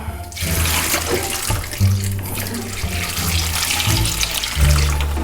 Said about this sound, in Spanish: Vamos a echar agua caliente, así tardaremos menos en que nos hierva el agua.